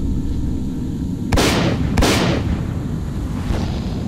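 Gunshots in S.T.A.L.K.E.R. Clear Sky while defending a camp: two sharp loud cracks about half a second apart, each trailing into an echoing decay, then a fainter third shot over a constant low rumble.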